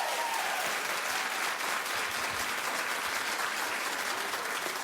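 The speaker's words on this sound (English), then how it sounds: "keep clapping for Paula Abdul" Steady studio-audience applause for Paula Abdul on a daytime talk show, a dense, even roar of clapping that carries loudly the whole time with no talk.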